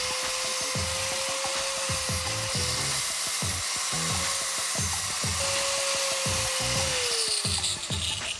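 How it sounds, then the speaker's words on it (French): A steel bar ground against a spinning sanding disc on a power tool, a steady high whine broken by repeated scraping bursts as the metal is pressed on and lifted off, loud and close with no talk. "Du coup je vais le poncer avec un disque à poncer."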